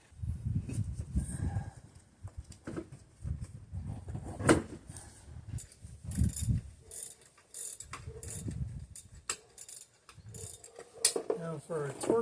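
Lug nuts are torqued to 80 foot-pounds on a car tire fitted to a Honda Goldwing motorcycle, producing close, irregular ratcheting clicks and mechanical clunks in repeated bursts.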